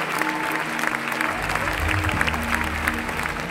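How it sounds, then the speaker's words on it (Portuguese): Sustained audience applause at the Cannes film festival, a standing ovation for a film: dense, steady clapping from a large crowd that swells slightly and continues throughout, heard from within the theatre. "O filme terminou aplaudido de pé pela plateia"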